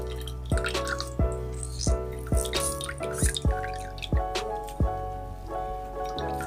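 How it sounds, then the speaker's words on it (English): Drained cauliflower folded into a cloth and wrung out over a bowl for keto pizza crust, with water dripping steadily in distinct drops at a near, moderate level and a faint background hum. "I'm just gonna fold it up really good and start wringing it out again"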